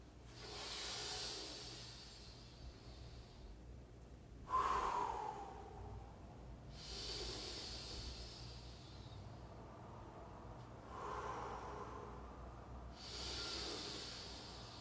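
Slow breaths drawn in and out through the mouth, close to the microphone. Breathy hissing inhales and exhales alternate in a steady rhythm of about five cycles, with quiet pauses between them.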